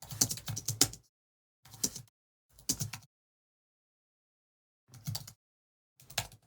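Bursts of keystrokes on a Mac keyboard while an email is typed: five separate clusters of quick clicks, the first run long and busy, the others short, separated by silence, close and fairly quiet.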